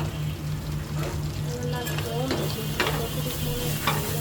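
Fish frying in mustard oil in a pan as it is flipped over, a continuous sizzle with scraping stirs and a few clinks, while voices talk over it.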